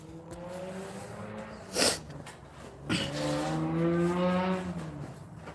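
A small car with a loud muffler speeds along a street near a construction trench, its exhaust rising in a harmonic drone that swells and sweeps upward, heard from a moderate distance and alone.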